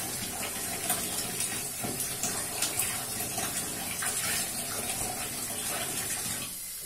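Water running steadily from a tap into a container or tub while a wetsuit is being put on, a continuous close splashing hiss that holds for several seconds and drops away at the very end.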